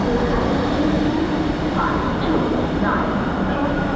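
Train standing at a platform of Mumbai Central railway station, the daily service to Indore, heard as a loud continuous station rumble and hum with faint background activity, no distinct passing or horn.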